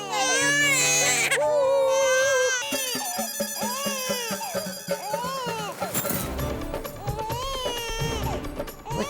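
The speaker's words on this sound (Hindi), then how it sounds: "हाँ, छोटा बच्चा रो रहा है।" A small baby cries loudly and continuously in a Hindi TV comedy scene, with rising and falling wails that carry on for several seconds.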